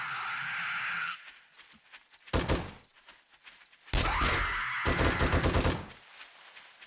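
Gunfire in the video game 7 Days to Die comes as two bursts of rapid shots separated by a lull, loud and close, with other game noise around them and no talking.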